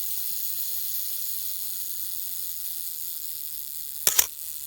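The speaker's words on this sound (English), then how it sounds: "This is going to fire the shutter." A Rolleiflex SL35M film camera fires its shutter after the self-timer runs, a quiet steady hum ending in a sharp double mechanical click near the end, close by in a quiet room.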